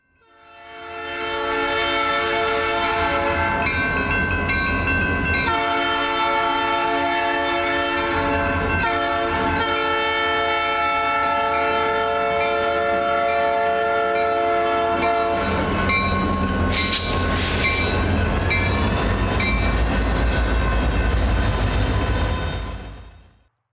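Train locomotives passing a railroad crossing at night, loud and close, with sustained horn blasts over rumbling engines and rolling wheels, a mechanical crossing bell sounding throughout, the horn fading before a final surge of rail noise.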